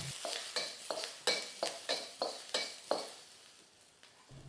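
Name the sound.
scallion whites stir-frying in a wok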